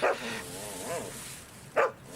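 Dog barking in a BBC Radio 4 Sherlock Holmes radio drama: two sharp barks at the start and end with a whining, whimpering stretch between, fairly close and moderately loud.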